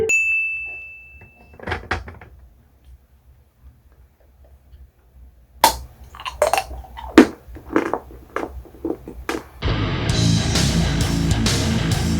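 Bites of very dark 99% cacao chocolate, heard as a run of close, sharp snaps and crunchy chewing clicks, following a faint ding and some quiet handling sounds, ending in a louder stretch of rustling noise.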